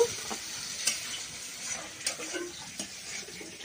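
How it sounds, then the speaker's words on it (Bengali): Fish frying in oil in a wok gives a faint, crackling sizzle, with a few light clinks and scrapes of a utensil against the metal, heard close with no voices. "কড়ার মধ্যে এখন আমি তেল দিয়ে দেব, দিয়ে এখন মাছটাকে আমি ভেজে নেব।"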